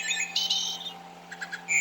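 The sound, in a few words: wood thrush call from Wild Republic Audubon bird toy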